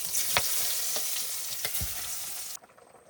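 Onion sizzles as it hits hot oil already tempered with cumin seeds, a loud steady frying hiss with a few sharp crackles and stirring scrapes before it cuts off abruptly near the end.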